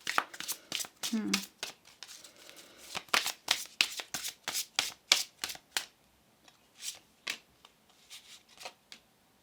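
Tarot cards shuffled by hand in a series of crisp, rapid riffling bursts and snaps, close and clear, with quieter card flicks continuing toward the end.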